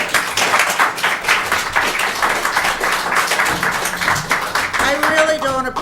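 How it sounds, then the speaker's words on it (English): A crowd claps steadily in a dense, sustained round of applause at a village board meeting, with a voice starting to speak near the end. "I really don't appreciate all that clapping."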